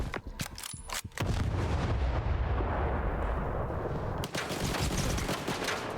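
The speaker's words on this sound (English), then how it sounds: "Grenade!" Gunfire and grenade blasts erupt in the game Stalker 2: a rapid burst of loud shots, then a long rumbling explosion, followed by another fast volley of gunfire.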